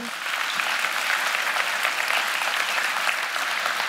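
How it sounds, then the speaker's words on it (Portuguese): Congregation applause during a religious broadcast, starting abruptly and then holding a thick, steady roar of many hands for about four seconds, loud and close with no talking over it. "Vamos aplaudi-lo."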